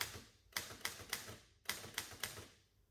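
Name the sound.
Remington 7 typewriter from 1908, tabulator moving carriage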